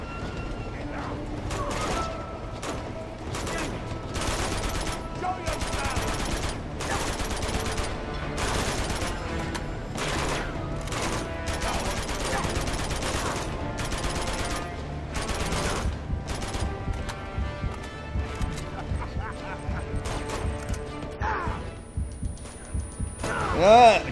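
Gunfire from the video game Uncharted 2, a dense run of rapid shots and bursts lasting throughout, fairly loud against a busy game soundtrack with occasional impacts and crashes.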